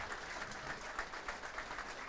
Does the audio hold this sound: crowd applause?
yes